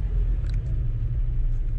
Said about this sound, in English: Oh, there's another car.